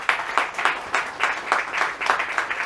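A brief burst of audience clapping at the draw and launch event for the Philly's Games. It comes as a pulsing, rhythmic patter of moderately loud claps with no talk over it.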